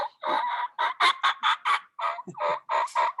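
A rapid series of raspy, harsh yelps from a hen turkey, about a dozen short calls in quick rhythm, close and fairly loud, as made on a turkey hunting call.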